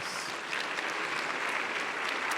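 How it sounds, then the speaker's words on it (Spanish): A church congregation at a Sunday sermon applauds for the King of Kings, a broad wash of many hands clapping at once, steady and fairly distant, with no talk over it. "Dale un aplauso al Rey de Reyes"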